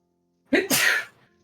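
A single sneeze, close and loud, with a sharp intake followed by a bright burst that trails off into silence.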